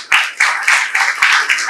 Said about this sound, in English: So that is a big round of applause for all our staff.